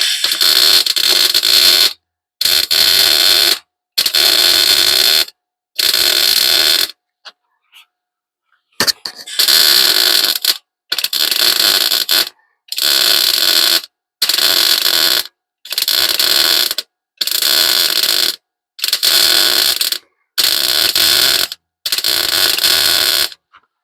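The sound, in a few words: welding a car patch panel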